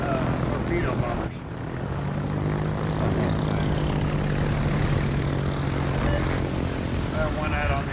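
Propeller engines of torpedo bomber aircraft in a naval combat video game drone steadily and loudly throughout, with a continuous humming tone.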